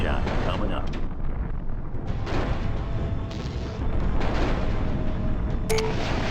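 Artillery fire in the MechCommander video game, with heavy continuous rumbling booms and blasts layered over dense battle noise, loud and close.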